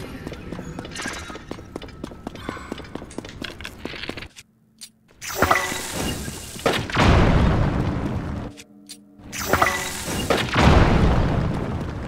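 Bomb blasts in Zelda: Tears of the Kingdom, several booming explosions with shattering debris that burst out after a stretch of rhythmic clopping footsteps, each boom loud and close and trailing off into brief silence.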